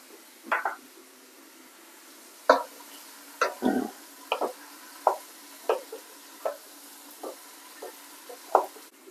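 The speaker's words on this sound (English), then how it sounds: "I'm gonna add some chopped ginger" Chopped ginger going into a meatless Jamaican ital vegetable stew with Irish potato, a spoon stirring and knocking in the pot in a run of short, separate scrapes and taps that are fairly close.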